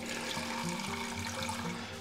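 Running water pours steadily from a tap or faucet for a couple of seconds, a soft continuous wash of flow heard alone at low level with no talking.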